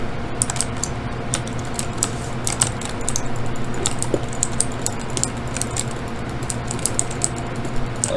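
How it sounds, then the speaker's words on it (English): Fast, close clatter of computer keys and mouse buttons from Minecraft PvP play, an unbroken run of crisp taps with occasional heavier strikes over a faint background hum, no talking. "A lot of clicking."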